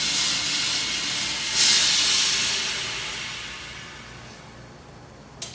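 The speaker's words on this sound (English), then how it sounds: "I wanna fill the oven with steam." Steam blasted into a bread oven during sourdough baking: a loud, steady broadband hiss that swells in a brief burst, then slowly fades, ending with a short sharp release.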